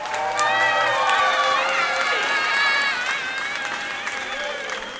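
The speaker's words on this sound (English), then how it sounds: "We give them a big round of applause." An audience at a middle school fall band concert applauds and cheers for seventh-grade band students, sustained clapping mixed with whoops and high shouts from the crowd.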